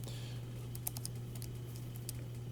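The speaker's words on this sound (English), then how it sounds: "So you'll hear me typing away" Light, quick typing on a computer keyboard, a soft irregular patter of key clicks close by over a steady low electrical hum.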